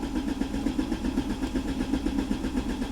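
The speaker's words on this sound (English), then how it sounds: "Crank the engine for 10 seconds or until test is completed." A car engine with a manual clutch turns over steadily on the starter during a diagnostic scan-tool test, a rhythmic, pulsing churn close and moderately loud, without voices.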